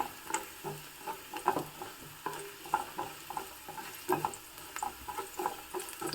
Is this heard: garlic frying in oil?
yes